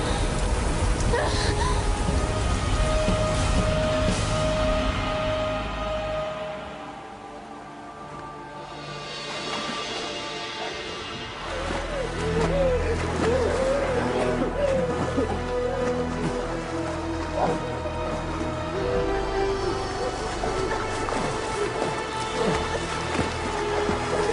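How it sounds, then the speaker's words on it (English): A heavy wind and rain storm roars as a broad, steady wash of noise for the whole stretch, easing briefly in the middle before building back up, with music and other sounds mixed underneath. "Hear me, mighty winds and rain."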